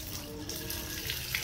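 Water rushes steadily through an irrigation pipe in a plantation flow-monitoring setup as the flow is turned up, a continuous hissing, gurgling stream with no voices.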